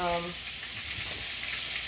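Chicken sizzles in a cast iron frying pan, a constant bright crackling hiss close up, with a brief tonal voice at the very start.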